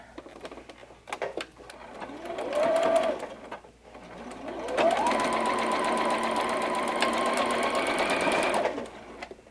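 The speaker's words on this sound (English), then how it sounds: "Now I want to sew on my left-hand side of that little triangle." A sewing machine stitches a quilt block seam along a small fabric triangle, running in two steady motor bursts with a brief pause between them, close and clear with no talking.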